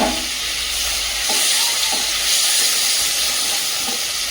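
Small fish frying in oil in a pan over a gas flame, a steady loud sizzling hiss with faint clinks, no talking.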